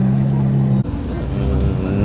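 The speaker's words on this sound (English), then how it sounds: "he revved it." A car engine rumbles and revs loudly nearby at a car meet, with a sudden shift in pitch partway through, steady roar throughout.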